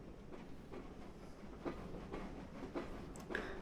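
Jubilee Class steam locomotive in Train Simulator 2021 on the Keighley & Worth Valley Railway, a steady rumbling run with faint rhythmic clicks and chuffs over a constant low roar, fairly distant and even in loudness.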